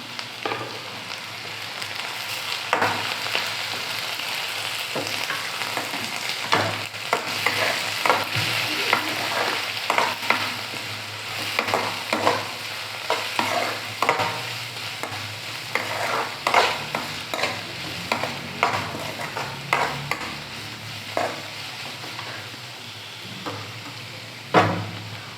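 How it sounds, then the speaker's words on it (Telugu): Tomato pieces and vegetables frying in oil in a pan for pasta, a constant close sizzle broken by frequent irregular scrapes and clacks of a spoon stirring throughout. "ఈ విధంగా ఈ వెజిటేబుల్స్ అన్నీ కూడా ఇలా ఫ్రై అయ్యే విధంగా ఆయిల్ అనేది మనం తీసుకోవాలి"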